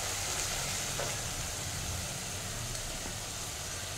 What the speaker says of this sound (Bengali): এবার এই সময় আমি আলুটা এঁচোড়টা অ্যাড করে দেবো।